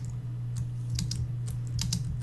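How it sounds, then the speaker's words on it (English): Typing on an Apple computer keyboard, a run of soft, fairly quick key clicks in an irregular rhythm, close by over a steady low electrical hum. "I did get a quieter keyboard. I don't know if you've noticed, but yeah, the keyboard is now a proper Apple keyboard"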